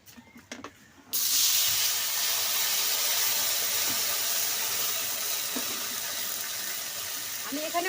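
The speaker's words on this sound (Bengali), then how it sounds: "আনারস সিদ্ধ করার জন্য কড়াইয়ে দিয়ে দিচ্ছি অল্প পরিমাণে জল" Water poured into a hot wok of grated pineapple hisses loudly, the steady steam roar breaking in abruptly after a short quiet moment and holding close and strong to the end.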